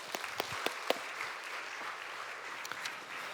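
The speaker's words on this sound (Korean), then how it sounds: "예, 박수 한번 할까요?" A church congregation at a Sunday worship service claps faintly and briefly, with a few sharper individual claps standing out over a soft, diffuse patter heard from some distance.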